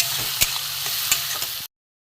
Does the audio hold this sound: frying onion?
yes